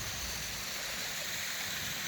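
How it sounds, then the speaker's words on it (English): Cascades and waterfalls along a steep mountain hiking trail give a steady, even wash of rushing water, close and continuous with no break across the short stretch. "Some pretty cool cascades and waterfalls here,"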